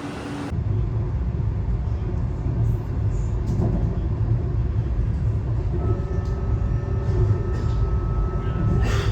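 A train rumbles along with a deep, steady roar and rattle, close and loud, with faint tonal whines joining toward the end.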